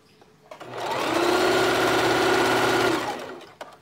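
A sewing machine running a zigzag stitch on stripper clothing, one continuous close whirring burst of about two seconds with rapid mechanical chatter, starting and stopping cleanly.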